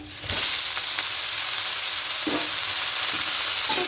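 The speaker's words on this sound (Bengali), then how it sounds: "এবার এখানে কেটে রাখা লাল শাকগুলো দিয়ে দেবো" Chopped red amaranth leaves added to onions fried light red, a loud steady sizzle close up with several spoon stirring strokes through the hiss.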